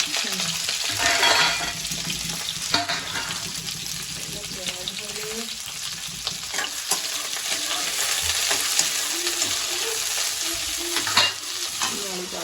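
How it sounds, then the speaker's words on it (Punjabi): Onions frying in a kadai for kadai paneer, a steady close sizzle with scraping stir strokes running throughout while a person talks over the cooking. "ਹੁਣ ਪਹਿਲਾਂ ਤਾਂ ਪਾਉਂਦੇ ਆ ਪਿਆਜ਼"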